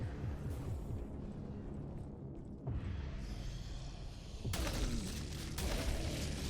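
Shotgun fire in the retro shooter Prodeus, heavy booming blasts layered over dense game noise, with a sharp loud burst near the end and continuous chaotic action throughout.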